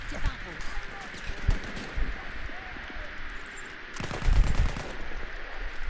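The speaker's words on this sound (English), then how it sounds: "I'm getting sniped at" Sniper rifle shots crack in the Battlefield 1 beta, a few sharp bursts with one heavier blast near the end, set against a steady game ambience while a player talks over it.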